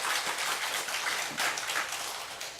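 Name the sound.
congregation clapping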